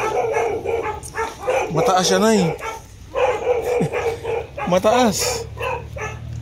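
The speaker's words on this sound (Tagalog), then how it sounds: "May aso. Sorry, dogs." Dogs bark and yip a few times nearby while people talk over them outdoors by a river, the barks short and scattered among the voices.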